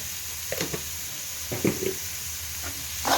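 Ragi flour paniyaram frying in a pan, a soft, steady sizzle broken by a few short stirring scrapes, close and fairly quiet with no talking.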